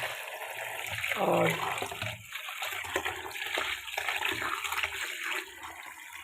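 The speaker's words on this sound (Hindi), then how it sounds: "ये देखें पानी बहा दिया, जैसे हम कपड़े वॉश कर रहे होते हैं इस तरह से" Water is poured and swirled over currency notes being washed by hand in a basin, a moderate splashing gush near the start settling into softer sloshing, fairly quiet with a brief murmured word.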